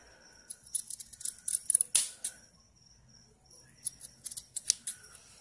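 Scissors cutting material for a boutique kit: crisp, close snips come in quick clusters, then a pause, then another run of cuts, and no one speaks.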